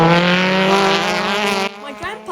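Touring race cars at Brands Hatch during the final round of the British Touring Car Championship roar past in a loud, sustained engine drone that drops off abruptly, leaving quieter mixed noise.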